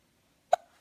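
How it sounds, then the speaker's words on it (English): A single short hiccup, fairly close and alone in an otherwise quiet room, with a faint trailing tail and a small sound at the very end. "Hiccup?"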